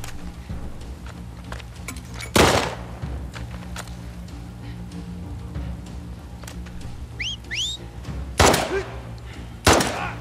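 Sharp gunshots from The Last of Us Part 2 gameplay, three loud separate reports spaced a few seconds apart over a low ambient game backdrop, with faint chirping sounds between them.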